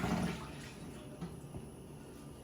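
Chicken broth pours into a large cooking pot on the stove, a soft, low splashing and trickling that swells briefly at the start and then settles into a steady quiet flow.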